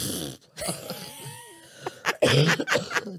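A short, rough cough with throat sounds, close up, followed by breathy vocal noises.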